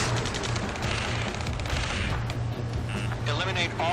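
Heavy Ace Combat 7 ground-combat gunfire rattles continuously under shouted radio chatter and battle noise, dense and loud throughout.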